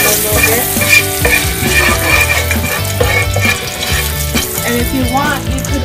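Garlic fries loudly in seasoned oil while being stirred, giving a dense, steady sizzle with scraping of the spoon in the pan, close and continuous; music or a voice murmurs faintly underneath.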